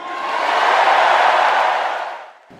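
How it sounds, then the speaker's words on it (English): A large convention crowd at the Democratic convention roars with sustained cheering for Biden, swelling loudly and then fading out near the end, with no talking over it. "Biden received loud cheers for that"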